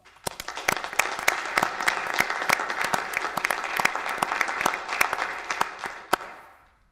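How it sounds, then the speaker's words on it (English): A room at a Fargo city commission meeting applauds the retiring police chief: moderate, fairly close clapping with distinct individual claps, rising quickly, holding for about six seconds, then fading out. "the chief a round of applause?"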